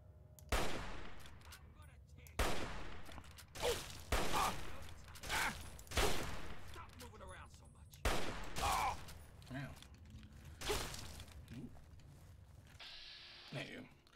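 Gunshots in Fallout 3: loud, spaced single shots with booming tails, roughly eight over the stretch, mixed with a player talking between them.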